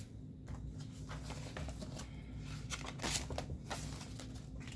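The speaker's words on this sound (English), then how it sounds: "So let's go ahead and get this money into our envelopes." Paper cash bills being handled and slipped into savings envelopes at a home table, a steady rustle of shuffling and crinkling paper with small taps, close and continuous with no talking.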